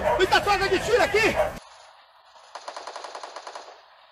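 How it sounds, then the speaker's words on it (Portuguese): Rapid automatic gunfire in a video game rattles in a steady burst after someone talks excitedly, the shots sounding somewhat distant and thin. "Muita carga de tiro aqui!"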